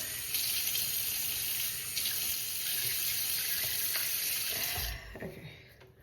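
A bathroom faucet runs steadily, water splashing into a sink during a morning skincare rinse, a continuous close hiss that tapers off near the end.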